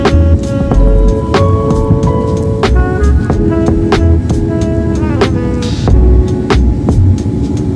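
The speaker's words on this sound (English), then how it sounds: "It's been raining for hours now." Steady heavy rain falling at Mumbai airport, a dense continuous wash with scattered sharp drips and clicks, plus a low rumble of engines or vehicles in the background.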